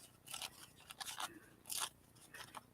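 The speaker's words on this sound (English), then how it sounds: "Okay, I'm gonna tear here." Paper is torn by hand for a craft project, giving several short crisp ripping bursts with pauses between them, close and quiet.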